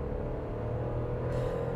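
A Kylaq compact SUV with an automatic transmission pulling hard to overtake on the road; a steady low engine rumble and road noise from inside the cabin, rising slightly toward the end.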